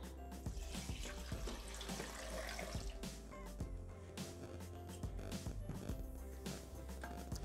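Water runs steadily into a Thermomix mixing bowl already holding scampi, a continuous close pour like a tap filling a sink, with a few soft clinks over a low kitchen hum.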